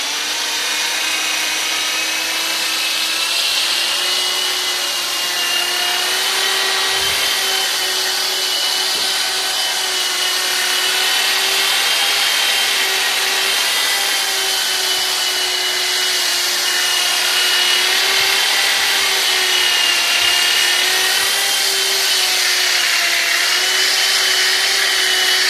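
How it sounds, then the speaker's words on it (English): A loud, steady whine of a power drill runs without a break, with a rough abrasive hiss of 60-grit sandpaper against painted copper tubing layered over the motor. "now I'm going to take some 60 grain sanding paper, hold on to it"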